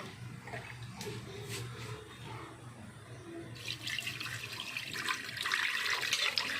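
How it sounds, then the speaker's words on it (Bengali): Water being poured over mutton in a pressure cooker, a steady splashing stream that grows fuller and louder toward the end, with no talking. "এবার একটু জল দিয়ে দিচ্ছি"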